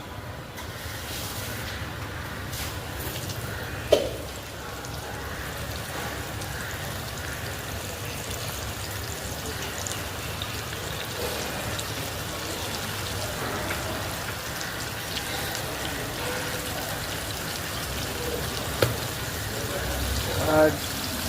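KFC-style chicken pieces deep-frying in hot oil, a steady, loud crackling hiss like heavy rain that continues throughout, with a few sharper pops and a voice talking over it.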